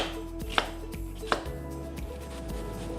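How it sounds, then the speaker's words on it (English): A knife chops sweet onion into small chunks on a cutting board for pineapple salsa, with two sharp, distinct cuts over a low, steady kitchen background. "using the claw method, we're gonna cut some up"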